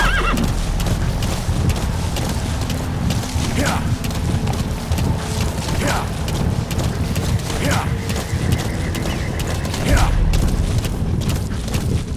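A horse in the Metal Gear Solid V: The Phantom Pain video game whinnies loudly four times at spaced intervals, while steady hoof clip-clops and game ambience run underneath throughout.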